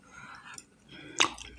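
Someone chews a bite of brunch food close to the microphone with faint, soft mouth sounds, and one sharp click partway through.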